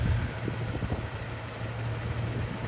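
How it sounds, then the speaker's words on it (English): A 1992 Jeep Cherokee with the 4.0L engine and a 5-speed manual, idling with a low, even mechanical hum. The sound is faint and steady, with a slight fan-like whir and no voices. "Engine sounds really nice."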